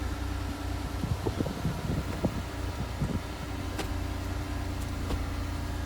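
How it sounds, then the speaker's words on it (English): A 2010 Ford Escape on a test drive gives a steady low engine and road rumble with some wind noise and a few soft knocks inside the cabin, with no talking. "So currently doing the test drive for this"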